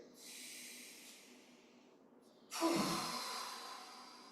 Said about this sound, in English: Inhale. And then we'll just exhale, open wide,